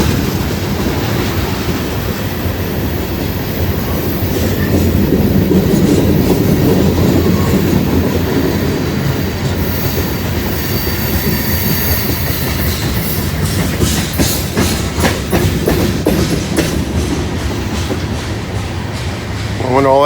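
A freight train with a distributed power locomotive rolls past close by, a loud continuous rumble with steady clickety-clack of wheels and a brief squeal near the end.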